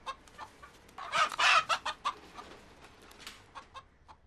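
A pet rooster clucks and squawks at close range in a burst of loud, rapid calls, then drops to scattered softer clucks.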